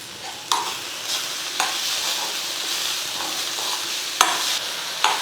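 Manathakkali greens cook in a pan over low heat with a constant soft sizzle, punctuated by a few sharp scrapes as a spoon stirs them.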